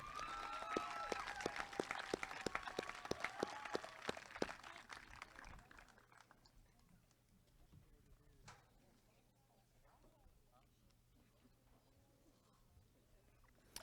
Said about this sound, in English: Another round of applause for Nate Musselman.